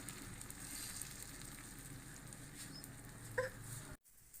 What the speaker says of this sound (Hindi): ये तवे के ऊपर हमने हल्का सा देसी घी लगा दिया। अब हम इसको डाल देंगे, ये हमारा ऑमलेट बन जाएगा।